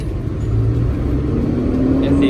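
A Robocop 6HK-240 truck engine pulls in second gear, a close, steady low drone with a slowly rising tone as it accelerates, while someone talks over it.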